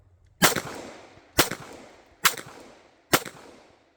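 A Glock Gen 2 model 21 pistol fires four loud, sharp shots at an even pace of about one per second, each followed by a short decaying echo.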